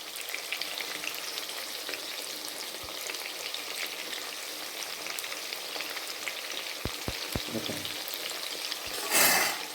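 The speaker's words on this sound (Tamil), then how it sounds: "மக்களே பாருங்கள் சிக்கன் வந்து ஃப்ரை பண்ணுறோம் எப்படி ஃப்ரை ஆகுது பாருங்கள்" Chicken fries in a pan with a constant close crackling sizzle, broken by a few sharp knocks and a louder hiss near the end.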